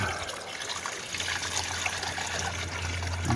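Steady water trickles and splashes as an aquarium tank is filled, a continuous close liquid flow with a low hum underneath and no talking.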